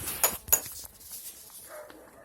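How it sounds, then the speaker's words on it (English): Dogs, said to include a German Shepherd and a Rottweiler, give two sharp barks close by, followed by quieter whimpering and rustling. "What kind of dogs is those?"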